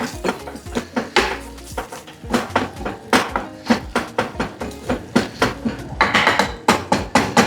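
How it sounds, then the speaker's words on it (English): A pan of diced tomatoes being stirred briskly, with a loud, rapid run of metallic clanks and scrapes as the utensil knocks the pan again and again in an uneven rhythm, with no talking. "At this point, I'm gonna add my tomatoes, diced tomatoes. Okay. So I'm stirring."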